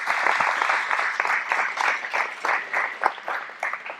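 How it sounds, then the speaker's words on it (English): Close, lively applause from an audience at a coaching talk, a brisk patter of many hands that rises and dips in small waves over four seconds with no voices over it. "How about another round of applause for that guy?"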